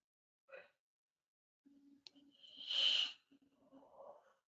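A man yawning during a guided meditation, a faint breathy rising and falling exhale amid quiet, soft breaths before and after.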